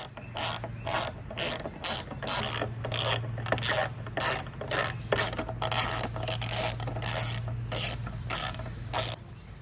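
A hand ratchet loosening the windscreen bolts on a Honda Transalp motorcycle, rapid close clicking in repeated bursts with brief pauses between strokes, and a steady low hum underneath.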